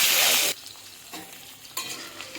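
Sliced pointed gourd fries in a hot pan, a loud sizzling burst at first, then quieter crackling broken by a couple of scraping stirs of the spatula.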